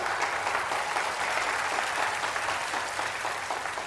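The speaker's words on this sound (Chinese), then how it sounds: "下面有请全场来宾响起今天第一次祝福的掌声" Wedding guests break into sustained applause, a dense, steady wash of clapping from a full crowd that holds at even loudness throughout with no talk over it.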